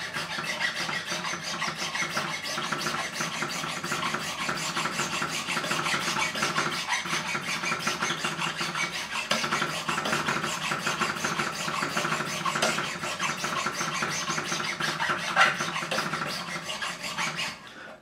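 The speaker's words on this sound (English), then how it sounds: "The file's a lot quicker than the levelling beam or the sanding beam." Frets on an ESP Ltd EC-256 electric guitar being levelled with a metal file, a steady, close rasping scrape repeated in long, even strokes for the whole stretch, with no voices.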